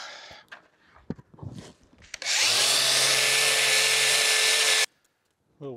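An angle grinder with a wire wheel strips a bandsaw main casting down to bare metal, whirring loudly and steadily for about two and a half seconds after some quiet handling noises, then cutting off abruptly.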